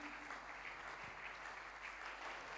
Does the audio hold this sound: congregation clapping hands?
yes